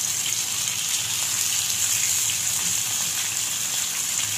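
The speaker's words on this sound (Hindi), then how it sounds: "अब हम इसको फ्राई करेंगे।" Marinated fish frying in hot oil in a pan gives a steady, continuous sizzle with a broad hiss that stays even and fairly loud throughout.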